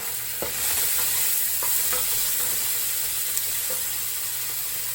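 Mushrooms dusted with seasoning salt frying in a pan, a steady close sizzle with a few light scrapes and taps of a utensil, no voices.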